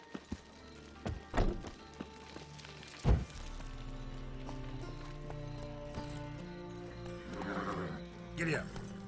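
A horse in The Witcher 3 gives a whinny among scattered hoof clops and thuds, with game music and a voice underneath; the neigh is faint and mixed with other game sounds.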